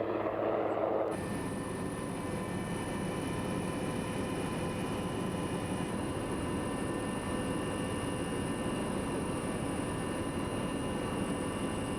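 Cabin noise of a helicopter flying from Madrid to the monastery of Yuste in Extremadura, Spain, a steady, dense rotor-and-engine drone with a faint high whine, continuous and even throughout with no talk.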